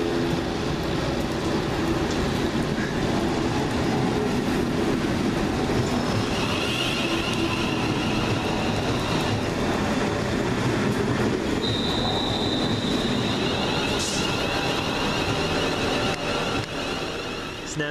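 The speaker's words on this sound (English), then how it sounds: "the 12:54 London Midland service from Birmingham New Street to Liverpool Lime Street via Crewe" A London Midland passenger train on the Birmingham New Street to Liverpool Lime Street service rolls along the rails at Wolverhampton with a loud, continuous rumble, and high-pitched wheel squeals rise partway through.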